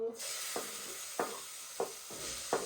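Chopped onions sizzle in hot oil with a steady bright hiss, broken by four evenly spaced soft knocks.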